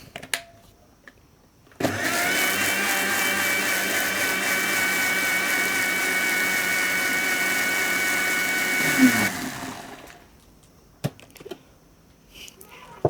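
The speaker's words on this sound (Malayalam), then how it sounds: "അതും ഒരു പത്ത് സെക്കൻഡ് നേരം നമുക്ക് ബ്ലെൻഡ് ചെയ്യാം" A home blender whirs steadily for about seven seconds, blending oil into egg for homemade mayonnaise, a loud continuous motor drone that starts abruptly and winds down, with a few light clicks before and after.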